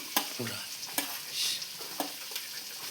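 Onions fry in a spiced pan while a spoon stirs them in several quick, sharp scrapes over a steady, fairly soft sizzle.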